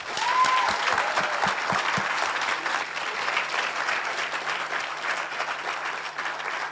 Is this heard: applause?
yes